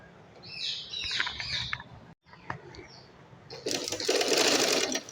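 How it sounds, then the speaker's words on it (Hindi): A sewing machine stitches elastic onto cloth for a child's shirt and trouser set, a fast buzzing run of stitching, a brief stop, then a louder, denser burst of machine noise, with faint chirps in the background. "अब हम सिलाई मशीन पर रखेंगे और फिर इलास्टिक लगाने बताएंगे।"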